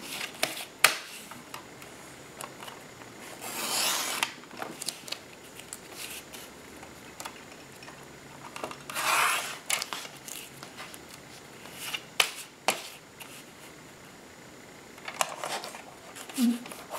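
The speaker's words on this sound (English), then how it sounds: "Next thing I want to do is cut this down and make the image a little straighter" Scissors cut through a magazine picture to trim it down, giving sparse close snips and paper rustles spaced apart, with soft handling noises between the cuts.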